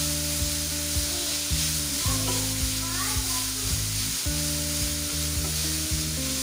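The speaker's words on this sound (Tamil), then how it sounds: "கேரட் வந்து நெய்யிலே நல்லா வணங்கி வரணும், சிம்மில் வச்சு வணக்கிக்கிங்க" Grated carrot frying in ghee for carrot wheat rava payasam, a steady loud sizzle with occasional stirring scrapes, close up and continuous with no talking.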